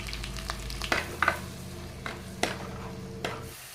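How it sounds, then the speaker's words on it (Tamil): Onions sautéing in sesame oil for a Nellai-style fish curry, a close, steady sizzle broken by several sharp scrapes and clinks of a spoon stirring in the pan. "வெங்காயம் நல்லா வதங்கியாச்சு."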